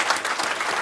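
A short burst of audience clapping at a comedy magic open-stage show, steady and moderately loud for under a second.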